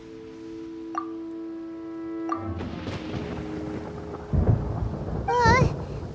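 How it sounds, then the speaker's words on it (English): Rumbling thunder builds over steady rain in Genshin Impact, loud and close, with a heavy crack of thunder near the end and background music tones running throughout. "Paimon hears thunder!"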